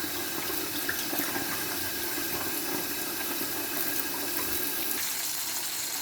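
Hands being washed under a running tap in a home kitchen, a steady close splash of water running throughout, with no talking.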